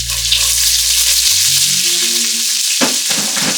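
Peppers and celery sautéing in a pot for jambalaya, giving a loud, steady sizzle that carries on throughout, with a low tonal hum early on and a couple of stirring scrapes near the end, no talking.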